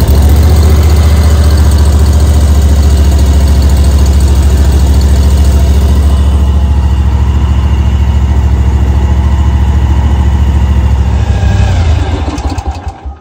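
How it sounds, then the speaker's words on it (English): Spartan RZ HD zero-turn mower engine running at a steady, loud idle close by, a continuous low rumble that holds throughout before tapering off at the end. "let's go ahead and crank it and let it idle just for a minute"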